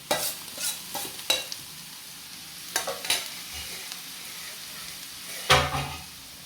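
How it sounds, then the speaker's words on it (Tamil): Carrots stir and fry with browned onions and mustard seeds for a Sri Lankan tinfish carrot varai, a low continuous sizzle broken by several sharp scraping stirs of a spoon against the pan. "இப்போ வெங்காயம்லாம் நல்லா ப்ரௌனாக வந்துட்டு இப்போ கரட்டை போடுறோம்."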